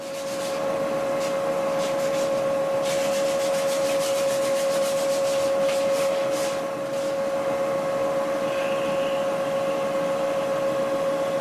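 Rough sandpaper rubbed over wood in a workshop, a steady close scratching hiss with rhythmic strokes in the middle, over a constant hum.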